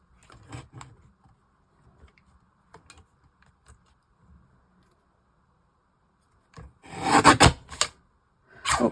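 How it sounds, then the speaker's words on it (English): Card paper being trimmed with a paper trimmer, a few faint scraping slides early on, then a louder, rasping cutting stroke near the end followed by a brief final swipe. "So what I'm going to do now is just trim this off a little bit."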